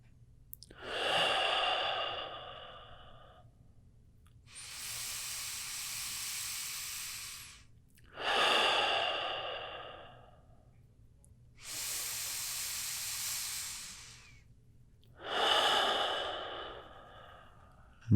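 Slow, deep breaths held in a yoga pose: three long broadband inhales alternate with two steadier, airy exhales, close and fairly quiet with no talking.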